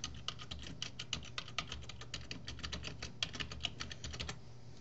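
Rapid, light clicking of a computer keyboard while a session name is typed, a close, quiet run of keystrokes lasting a few seconds.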